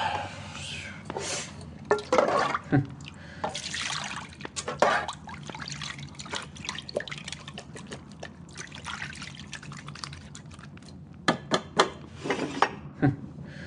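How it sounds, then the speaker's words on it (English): Water pours and trickles as hands are washed, with splashing and clinking of dishes in a basin, heard close under a narrator's voice as an audiobook sound effect. "I'm gonna wash this stuff off."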